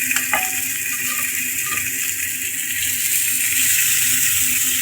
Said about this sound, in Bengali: এবার আমি কাঁচা কলাগুলোকেও ভেজে নিচ্ছি, হালকা হালকা করে ভেজে নেব।